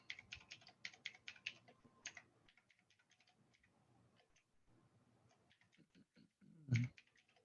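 Fingers type a password on a computer keyboard, with quick bursts of close, crisp key clicks at first, then sparser, softer taps and a single heavier thump near the end.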